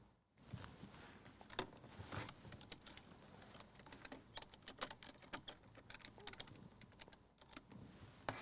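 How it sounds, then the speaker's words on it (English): Close, quiet typing on a computer keyboard: a steady run of quick, irregular key clicks with small pauses between bursts. "let me type this"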